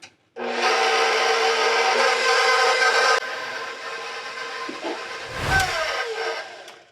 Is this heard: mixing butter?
yes